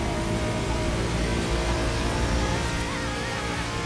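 A steady, loud engine roar of a BMW M8 Coupé with nitrous boost in the video game The Crew 2 holds throughout, a high droning whine layered over a deep rumble with no break, like a car racing hard.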